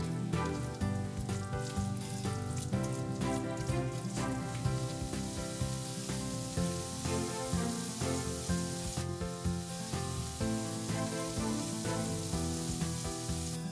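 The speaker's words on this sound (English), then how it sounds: "we're going to now fry the onions" Onions fry in oil in a pot for chicken tikka masala, crackling and sizzling in a dense, continuous hiss that stays loud and close throughout.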